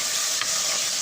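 Chicken frying lightly in a pan over medium-high heat gives a brief, continuous, bright sizzle up close, with no voices.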